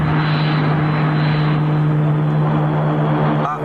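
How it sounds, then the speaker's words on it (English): The cartoon Orbit Jet aircraft comes in to land with a loud, steady engine drone and a low humming tone throughout, dipping briefly right at the end. "the Orbit Jet is in the process of landing"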